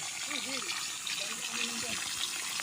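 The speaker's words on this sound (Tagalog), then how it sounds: "Yung lupa mismo ay merong merong bukal. Merong tubig na umaagos." Natural spring water bubbles up from the ground on a riverside farm lot, a soft continuous trickle and flow heard faintly with some background voices.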